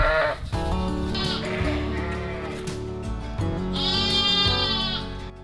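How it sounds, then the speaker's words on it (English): A ewe bleats loudly and repeatedly during hoof trimming, calling for her separated lamb; the long, wavering cries sit close and dominate, with a brief pause between calls and farm background beneath. "She's shouting there for her lamb, but she's only going to be away for the lamb for a few moments while we do the feet."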